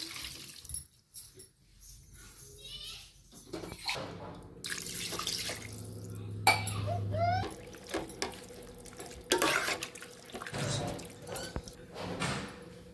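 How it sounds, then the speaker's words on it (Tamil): Water pours and trickles into a pot of country chicken curry in several bursts, with drips, clinks of a utensil and brief stirring, fairly close. "தேவையான அளவு தண்ணி ஊற்றிக்கலாம்."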